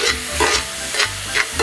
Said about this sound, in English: As soon as the garlic and onion hit the hot pan, the aroma that comes out of them is just delicious.